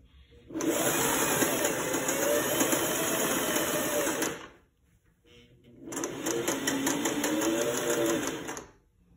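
A sewing machine stitches neck piping onto a shirt in two long, even bursts of fast whirring and needle clatter, close and steady, separated by a short pause, with no talking.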